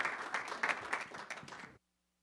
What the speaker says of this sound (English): Have a round of applause for Wendy.